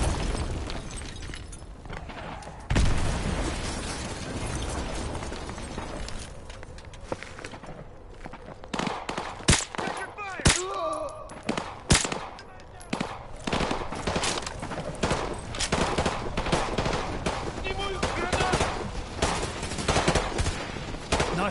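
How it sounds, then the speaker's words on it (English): Bursts of rapid gunfire crackle alongside booming explosions in a PS4 video game battle, loud and close, with several heavy blasts mid-way and continuous shooting throughout. "Those explosions are going to attract a lot of attention."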